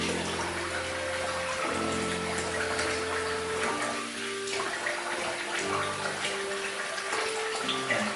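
Water runs steadily from a tap to rinse shaving lather off after a wet shave, a constant close rush with small splashes and shifts in flow, and no talking.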